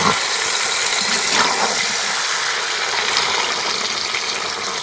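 Water pours into a pan of chicken with capsicum and cauliflower, a steady broadband gush and hiss lasting throughout at close range.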